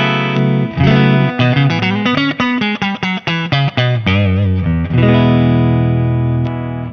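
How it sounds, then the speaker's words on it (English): Stratocaster guitar with a clean tone through a Laney VH100R amp's clean channel, playing a lively riff of picked notes and chords that ends on a sustained ringing chord; no voices. "And it's running through to the clean channel of a Laney VH100R."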